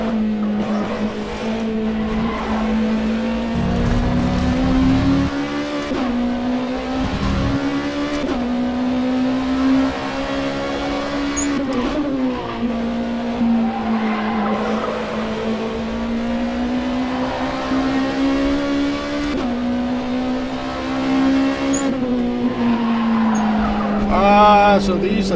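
An LMP2 prototype race car in a racing video game drones at steady high revs, its engine tone dipping and climbing with repeated gear shifts and occasional tyre squeal, continuous and close.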